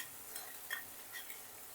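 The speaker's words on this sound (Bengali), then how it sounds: "ভালো করে আমি এটা একটু ভেজে নেব বন্ধুরা পেঁয়াজটা ভালোভাবে ভাজা হয়ে গেছে" A soft, steady sizzle of green chilli and cumin paste frying with onions in a pan, with faint scraping as the mixture is stirred.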